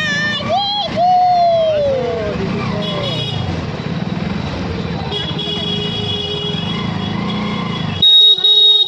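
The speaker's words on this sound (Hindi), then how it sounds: "अभी हम लोग बाइक चला रहे हैं।" A motorcycle ridden through street traffic, with a steady engine and road rumble, a passing horn and other vehicle noise around it, and voices talking over the ride.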